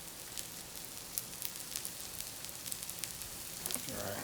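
Veggie burgers sizzle steadily in a hot pan, a dense crackling hiss with small irregular pops scattered throughout, moderately quiet and close, with no talking.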